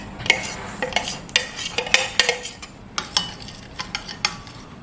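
Garlic cooks in melted butter in a pan while a utensil stirs and scrapes it, giving repeated sharp clinks and scrapes over a soft, steady sizzle, close and fairly loud, with no talking.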